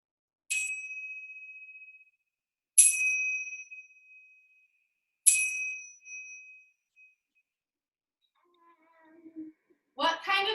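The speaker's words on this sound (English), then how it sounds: "When you hear the chimes 3 times, sit on up, and Amberly's gonna tell us" Three bright chime strikes ring out alone at an even spacing during a kids' yoga class, each with a lingering metallic decay, followed by soft faint sounds and a voice starting to speak at the end.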